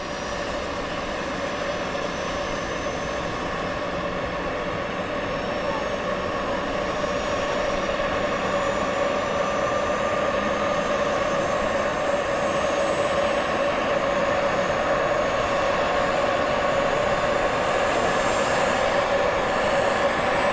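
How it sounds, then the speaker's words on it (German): An RC helicopter's rotor blades spin up just before takeoff, giving a steady droning hum with a thin high whine, continuous and moderately loud for twenty seconds with no talk. "Ja, jetzt dreht der Rotorblätter."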